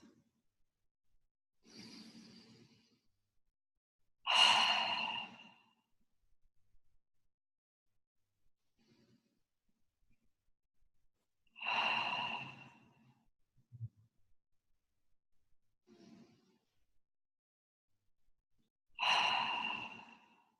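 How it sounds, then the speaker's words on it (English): Several slow, deep breaths taken by people in a facilitated grounding exercise, each long airy inhale or exhale standing alone against near silence, spaced several seconds apart. "as you keep breathing"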